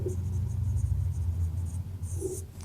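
Marker or chalk strokes scratching across a classroom board during a Class 10 physics lesson on reflection of light, a few soft scraping bursts near the microphone over a low room hum.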